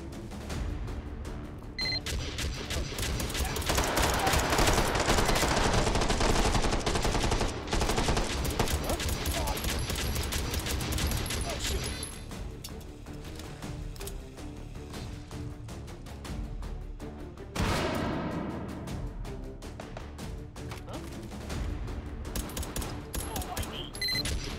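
Sentry gun turrets fire in Hot Dogs, Horseshoes & Hand Grenades during a Take & Hold round played in VR, sending long, loud, rapid automatic bursts that run nearly continuously with a brief pause, with occasional talk over the gunfire.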